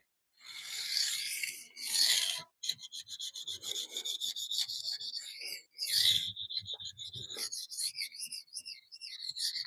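A knife sharpened on a coarse Kentif silicon carbide stone, heard as close, rhythmic scraping strokes in short bursts with brief pauses between them, quiet and alone.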